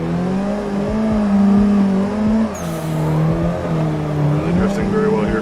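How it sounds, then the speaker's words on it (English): Toyota AE86 drifting in Assetto Corsa, a sustained engine drone that rises and falls with throttle blips and a brief tire screech, with a person talking over it. "Really drifting very well here."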